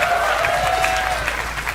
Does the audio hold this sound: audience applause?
yes